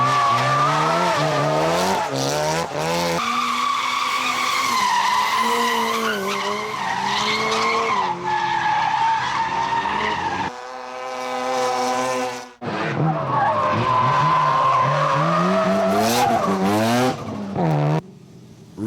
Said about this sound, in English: take those drifters out for a spin